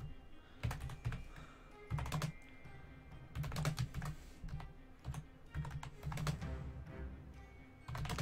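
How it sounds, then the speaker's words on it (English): Steady bursts of rapid typing on a computer keyboard, clicking close and clear in quick clusters with brief pauses, during a Town of Salem game session. "The plan is what I'm typing in here."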